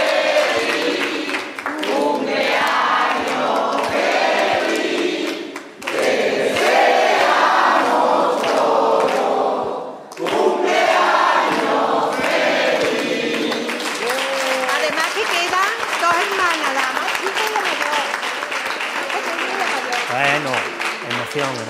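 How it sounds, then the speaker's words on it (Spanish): A crowd at a live televised town celebration in Andalusia breaks into loud, sustained applause and cheering, with voices calling out over the clapping throughout. "Un fuerte aplauso."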